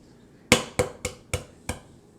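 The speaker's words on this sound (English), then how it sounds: "tap the wide end a couple of times. Don't tap it too hard." A hard-boiled egg's wide end is tapped against a hard surface five times in steady succession, each a crisp, close knock that fades quickly, with no voices.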